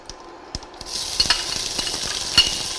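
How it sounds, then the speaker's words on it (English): Onion sizzles and crackles steadily in a hot pan for a Thai crab curry after a couple of soft taps, the frying close and continuous. "when these start frying a little, Yeah. then you put in our onion"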